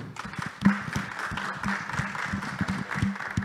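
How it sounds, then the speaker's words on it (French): Scattered clapping from a modest audience at a business startup event, uneven and close, with a murmur of voices underneath. "Mesdames et messieurs, sous vos applaudissements."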